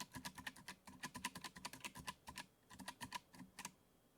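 Fingers tap out the alphabet as steno chords on a steno keyboard, a quiet, fast, fairly steady patter of key clicks with a short break near the end.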